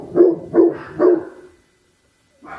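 Neighbouring dogs barking at each other outdoors, three loud close barks in an even rhythm, then a pause before another bark begins.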